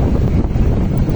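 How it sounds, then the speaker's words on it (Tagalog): Wind blowing along a windy road lined with mahogany trees in the countryside, a loud, continuous buffeting rush hitting the microphone with no voices. "Kaya yung lugar, mahangin"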